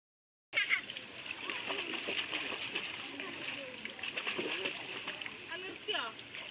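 Water splashes and sloshes close by as people wade in a cold stream near Kuruthichaal waterfall, over a steady stream rush, with voices talking and scattered splashes throughout.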